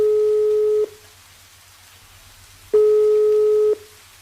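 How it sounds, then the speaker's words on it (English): A steady low telephone busy tone sounds in two long pulses with a pause between, clear and alone on the line. "The line is busy."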